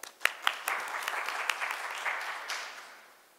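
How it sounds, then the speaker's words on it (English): An audience breaks into applause, a few sharp claps at the start swelling into steady clapping that gradually fades. "Let's another round of applause for Mr. Shantanu."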